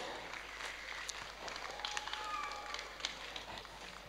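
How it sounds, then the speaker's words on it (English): Applause from an audience at a ceremony at the Ladi-Lak Institute, a steady wash of clapping lasting the whole stretch, moderately distant, with faint voices mixed in. "A round of applause for everybody"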